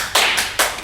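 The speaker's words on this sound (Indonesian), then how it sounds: "Udah harus tepuk tangan." Sharp, loud hand clapping close by, three or four quick bursts in rapid succession, with no talking over it.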